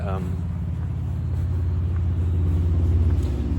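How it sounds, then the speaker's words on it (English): A car rumbling past outside, a low, steady engine rumble that builds gradually and grows loudest near the end, with a brief voice at the start. "Please be quiet, Mr. Car."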